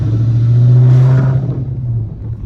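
A 5.7 Hemi car on a test drive with a wideband gauge installed, its engine giving a loud, steady low drone that swells as it accelerates, then eases off into road rumble.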